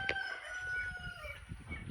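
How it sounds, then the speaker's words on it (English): A rooster crows close by, a drawn-out tonal call near the start over low background rumble and faint clucking from farm fowl. "The rooster is letting me know."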